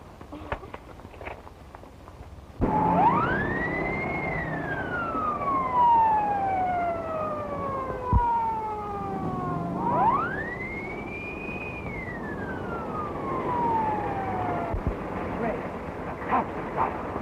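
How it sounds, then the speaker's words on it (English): A wailing police car siren rises and falls in two long sweeping cycles, loud and close over background noise. "you're going to that game in a police car with a siren wide open"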